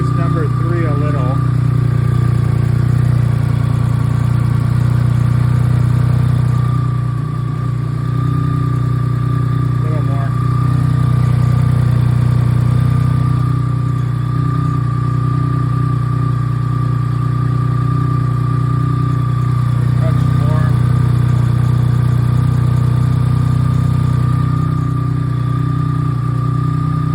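A BMW K75 motorcycle engine idles steadily during throttle synchronization, with a loud, even mid-pitched hum that stays constant for the whole stretch and shows only slight swells.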